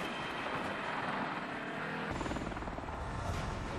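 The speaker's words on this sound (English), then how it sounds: "this Osprey prototype's very first flight in 1999. It barely gets off the ground, wobbles." An Osprey tiltrotor prototype in 1999, on its first flight, lifting barely off the ground and wobbling, sounds as a heavy whirring rotor roar. The roar shifts and deepens partway through, with no speech.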